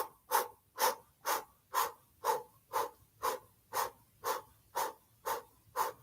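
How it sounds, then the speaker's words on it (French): Kundalini breath of fire done lying down, twelve rapid, evenly spaced pumped breaths through the mouth, each a sharp, close, forceful huff. "faire la respiration du feu avec la bouche en haut"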